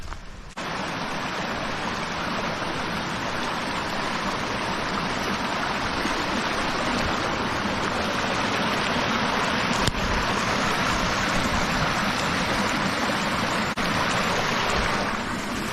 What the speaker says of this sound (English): You hear the water running